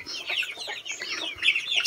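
Young chicks cheeping and peeping busily at feeding time, a crowded cluster of high chirps with some clucking from the flock, close and steady with no talk.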